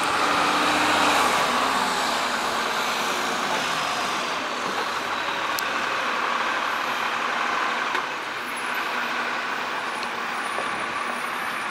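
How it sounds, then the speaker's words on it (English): WKU transit bus idling and pulling through a parking structure, a steady loud diesel rumble with engine hum and a brief air brake hiss, echoing in the enclosed deck. "I'm not filming their license plate, I'm filming the buses"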